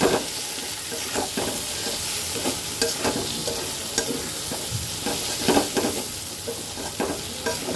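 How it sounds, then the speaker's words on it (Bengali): Spice masala with chopped tomato and green chilies fries in a pan for goat meat curry, a constant sizzle with repeated scraping stirs of a spatula, and no voices. "এইবার এটাকে আস্তে ধীরে আরো সুন্দর করে কষাবো।"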